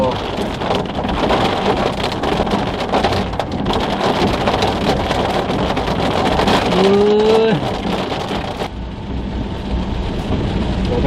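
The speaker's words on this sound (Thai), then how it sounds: "เอาแล้วฝนตก" Steady rain hisses and patters loudly on a surface, with a vehicle engine droning underneath and a brief rising tone partway through.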